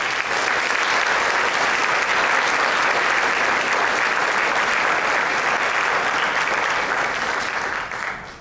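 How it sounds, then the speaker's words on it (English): A warm round of audience applause greets a pianist at an island concert, dense steady clapping that holds loud and even before tapering off at the end. "So let's put our hands together and give a warm island round of applause for Miss Coutney Clark."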